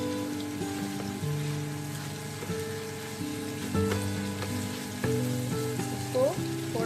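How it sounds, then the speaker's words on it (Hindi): Khoya fries in ghee in a pan for carrot halwa, giving a soft, continuous sizzle close by with occasional stirring scrapes. No talking is heard. "इसको थोड़ा सा घी में भूनना है कि ये नरम हो जाए।"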